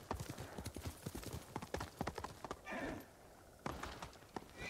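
Horse hooves clip-clop in a rapid gallop rhythm in the samurai video game Ghost of Tsushima, close and fairly quiet, with a brief whinny, a short pause, then hoofbeats resuming.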